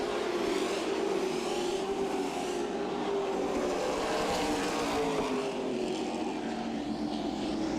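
Race cars in a CRA Super Series event at Berlin Raceway run side by side down the back straightaway into turn three, a steady, loud engine roar with a rising and falling whine that holds throughout.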